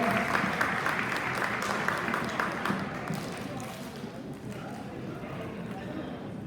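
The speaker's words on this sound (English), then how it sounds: "Win boys, big round of applause for the Stingray boys as they make their way around" At an all-star soccer luncheon in Monterey County, a room applauds the Stingray boys team as they walk around. Clapping starts fairly full, then thins and fades over several seconds beneath a voice talking over it.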